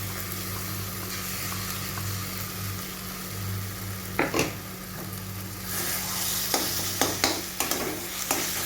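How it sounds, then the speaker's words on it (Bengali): Ground spice paste of coconut and mustard is added to taro frying in a pan, giving a steady sizzle that swells louder as the paste goes in, with sharp spoon scrapes and clatters during stirring. "এবার আমি এর মধ্যে যে মশলাটা বেটে রেখেছিলাম ওই মশলাটা আমি দিয়ে দিচ্ছি।"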